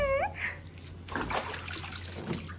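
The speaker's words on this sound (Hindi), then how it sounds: "अच्छा नहा के तो दिखा दे, छप छप कैसे करता है डुगू, छप छप।" A dog splashes and paddles in a shallow tub holding about an inch of water, with sloshing and spattering bursts nearby after a brief squeaky toy or whine at the start.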